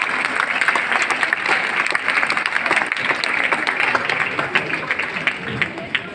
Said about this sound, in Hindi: एक बार जोरदार तालियां बजा दो, जोरदार इन बहनों के लिए